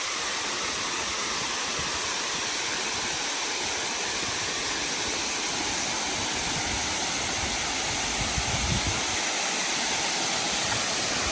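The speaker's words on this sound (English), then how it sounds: "There's some cool waterfall right off the road." A roadside waterfall at Beaver Brook Falls gives a steady, dense rushing roar that stays even and continuous throughout, with no voices.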